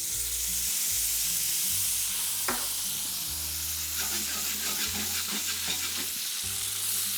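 Prawns and tomatoes sizzle hard in a pan as white wine goes in, making a loud, continuous frying hiss close by. Occasional stirring scrapes and bubbling crackles rise above it.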